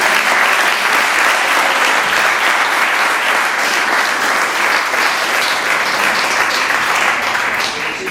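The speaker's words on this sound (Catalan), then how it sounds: "Un aplaudiment per aquesta." Dense, sustained applause from a large audience at an award ceremony for the Samborí Prize, loud and steady throughout without a break.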